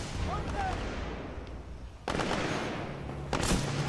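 Enemy drones in Titanfall 2 firing lasers: a rapid crackling volley midway, then another sharp burst near the end, loud and close over a busy game background, with voices at times.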